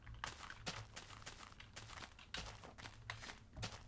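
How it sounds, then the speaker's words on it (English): Footsteps in the Minecraft video game, a run of quiet, evenly spaced crunchy steps, about a dozen, faint and close with no talking over them. "I thought I heard like more footsteps nearby"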